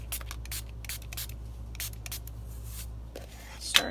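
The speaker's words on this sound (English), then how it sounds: "I'm going to spray up my paints just to get them" Several short hissing sprays from a spray bottle misting watercolor paints, spaced irregularly, with a louder, sharper burst near the end; close by with no talking.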